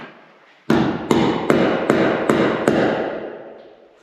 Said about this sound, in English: Pound the tab in.